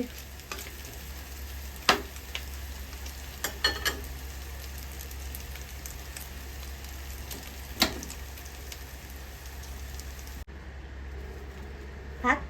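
Pork with egg stir-frying in a pan gives a soft continuous sizzle, with several sharp clinks from a spatula against the pan.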